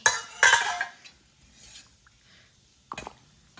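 Lemon juice and salt are mixed in a dish with a spoon, heard as a couple of brief metallic clinks and scrapes separated by quiet pauses.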